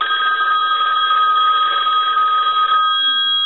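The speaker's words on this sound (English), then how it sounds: "I'm going to go ahead and ring the telephone." A Western Electric single slot payphone bell rings loud and close in one continuous metallic trill that cuts off near the end, leaving a fading tone.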